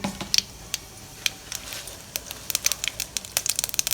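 Mustard seeds crackle and pop in hot oil while tempering rasam, scattered sharp ticks quickening toward the end over a faint sizzle.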